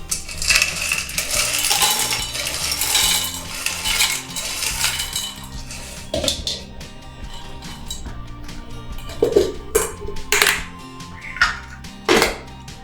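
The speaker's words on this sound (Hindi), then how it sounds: "इसे हम मिक्सर में बारीक पीस लेंगे" A mixer grinder grinding edible gum whirs and rattles loudly as hard pieces clatter inside, then stops and restarts in short bursts with clinking jolts.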